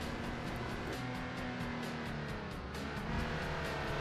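A car races at speed around the narrow roads of the Isle of Man TT circuit in Assetto Corsa, a continuous, fairly quiet engine roar holding steady with no talk over it.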